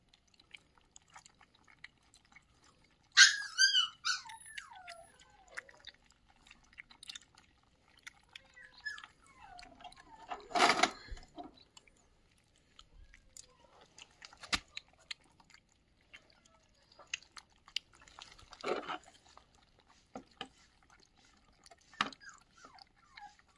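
Stray puppies eat food close by, giving soft wet chewing and lapping clicks that come in scattered quiet bursts with a few sharper louder moments.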